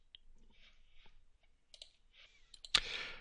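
Mouse clicks at a computer while vector shapes are trimmed in design software: a few faint, soft clicks scattered through quiet, then one sharp, louder click near the end.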